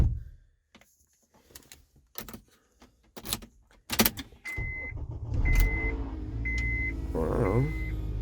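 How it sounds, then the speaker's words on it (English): A Honda car being entered and started: a few sharp clicks and door or key sounds, then the engine catching and settling into a steady idle with repeated electronic chimes over it. "let's get inside and start a car."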